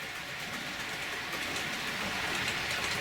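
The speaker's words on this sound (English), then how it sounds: "So the next container train to come along" A container train on a model railway rolls past as a steady broad rumble and hiss, continuous and fairly loud, with no voices.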